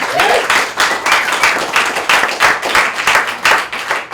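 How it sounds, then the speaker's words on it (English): An art bar audience in Toronto gives a big, loud round of applause for two poets after their sets, close and dense clapping with rhythmic surges, no speech over it. "Big round of applause for them."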